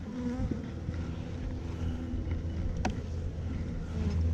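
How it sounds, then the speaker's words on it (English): Honey bees humming around an open hive being fed, a steady low buzz close by with individual bees droning past, faint and continuous throughout. "These are nice bees."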